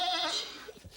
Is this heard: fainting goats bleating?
yes